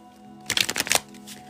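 Oracle cards being shuffled in a quiet room, a short burst of crisp riffling and flicking lasting about half a second, close and fairly soft against a faint steady hum.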